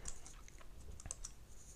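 Rapid close clicking of computer keyboard keys while typing code, soft and uneven in rhythm, with no voice.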